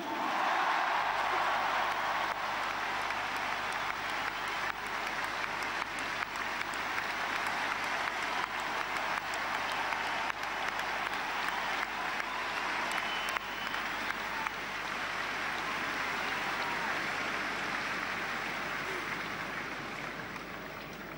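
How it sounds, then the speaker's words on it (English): A crowd at a sports team speech event gives a long, steady round of applause, a dense wash of clapping that holds for about twenty seconds before tapering slightly. "This man, you have to give him the biggest round of applause of the day, Micheál Donoghue."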